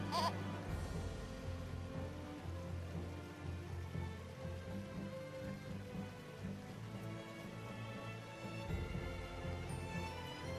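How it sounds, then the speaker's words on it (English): A goat bleats in the video game Eternal Sonata, a few wavering cries over a steady rainy, musical backdrop, fairly faint and without talk. "Come on, Mr. Goat. Won't you pretty please let us pass by?"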